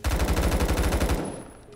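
Rapid automatic gunfire from the first-person shooter game Phantom Forces, a steady burst of about a dozen loud shots that cuts off and leaves a brief fading tail.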